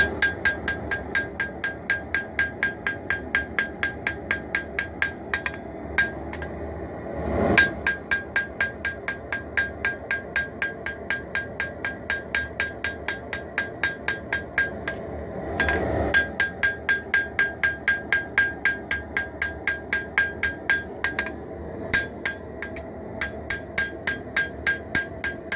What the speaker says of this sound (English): go over the whole edge very quickly with small hammer blows